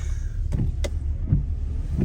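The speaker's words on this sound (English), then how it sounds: "Oh, why are the wipers going?" Windshield wipers on a 1991 Audi 100 sweep across the glass with a couple of brief swishing strokes over the low hum of the idling engine, fairly quiet with no talk.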